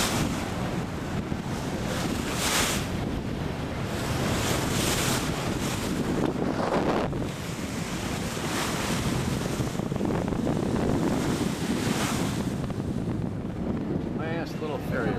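Passenger ferry crossing the harbour from Kowloon toward Hong Kong, giving a steady, loud wash of water and wind rush that continues without pause, with occasional voices faintly underneath.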